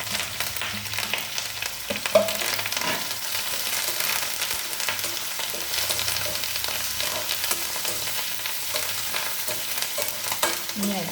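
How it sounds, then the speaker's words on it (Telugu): Ghee tempering with green chillies and curry leaves sizzles and crackles steadily in a pan, with occasional stirring scrapes and small pops, close and moderately quiet with no talk. "ఇలా నెయ్యిపోపు ఎగుతూ ఉంటే మంచి కమ్మట స్మెల్ వచ్చేస్తుందండి"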